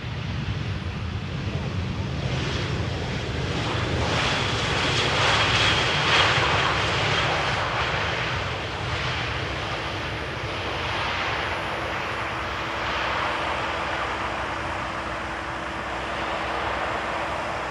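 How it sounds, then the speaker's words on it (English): An Airbus A320 landing on runway 18R at Amsterdam Schiphol passes as a broad, steady jet roar that swells near the middle and then eases, with wind buffeting the microphone throughout. "A320 arriving from Paris Charles de Gaulle"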